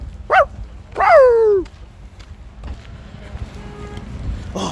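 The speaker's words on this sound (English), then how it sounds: "It's a dog." A dog outdoors on a Greek coast gives two sharp, nearby barks, the second stretched into a whining yelp, followed by quiet ambient background.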